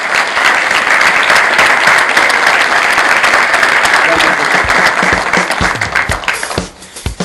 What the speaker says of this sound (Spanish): Un aplauso para los panelistas.